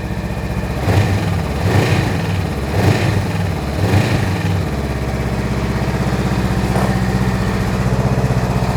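A 2020 Honda CMX500 Rebel motorcycle engine idles close by with a steady, low, throbbing putter, and a few slightly heavier pulses rise and fall in the first half.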